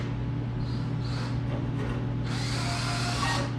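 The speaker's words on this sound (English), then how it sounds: "Use the drill." Power drill driving into a wooden lounge chair in a garage, a whirring motor that hums steadily and then rises into a louder, harsher grinding whine near the end.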